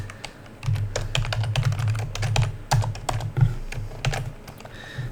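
Close computer keyboard typing while writing C# code, rapid irregular key clicks and taps in steady bursts throughout.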